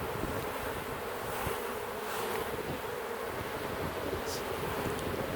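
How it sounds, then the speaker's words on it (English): A full box of honeybees gives off a thick, unbroken hum, loud and close throughout, steady without pauses or speech. "It's a full box of bees."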